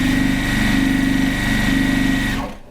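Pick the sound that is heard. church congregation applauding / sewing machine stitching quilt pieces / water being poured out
sewing machine stitching quilt pieces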